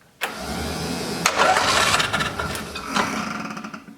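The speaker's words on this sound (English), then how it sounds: "When I turn on the key, the brake cooling fan should kick on. I'll just try to turn it over" A key turns and an engine cranks, catches and starts, revving up loudly up close before settling into a steady run, with no speech.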